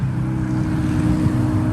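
A loud, close engine drones with a deep, rough low roar as a car comes up a hill at a big car meet, steady throughout the short moment.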